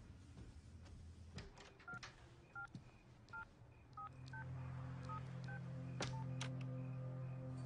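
Telephone keypad tones as a call is placed: a quick series of short, evenly paced beeps, then a steady low ringing hum takes over toward the end.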